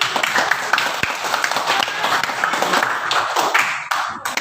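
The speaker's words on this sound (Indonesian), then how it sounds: "coba kasih tepuk tangan untuk" Children in a school physical education class clapping their hands together, a close, busy patter of uneven claps and taps with some voices mixed in.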